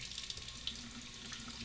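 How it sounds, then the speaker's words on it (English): Hot tap water runs steadily over a synthetic shaving brush with a wooden handle, a continuous close hiss and splash of water from a bathroom faucet with no talking. "Soak it under the hot water."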